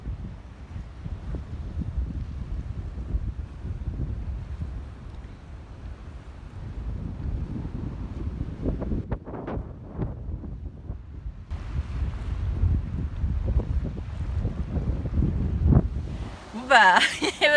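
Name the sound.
strong wind at the Bay of Fundy shore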